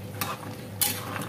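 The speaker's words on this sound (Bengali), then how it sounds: "এবার ভেজে রাখা বড়াগুলো আমি সব দিয়ে দিচ্ছি" Fried fritters (bora) go into a simmering curry and are stirred, with two sharp scrapes of a utensil against the pot over a soft, steady sizzle and bubbling.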